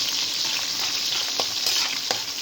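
Onions sautéing in a pan for a sweet and sour lapu-lapu dish, a steady close sizzle with a few light stirring scrapes and no voices.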